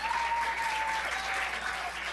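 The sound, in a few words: applause at a community council meeting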